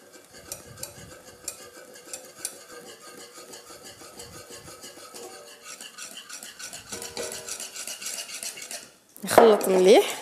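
A utensil clinks and scrapes steadily against a bowl while flan tart batter is mixed, the rhythmic tapping growing busier, then ending with a louder burst of rustling handling.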